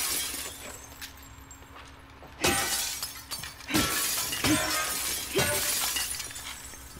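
Glass shatters several times in The Last of Us Part 2 gameplay, each sharp crash bursting out over a low steady hum, with about four breaks spaced a second or so apart.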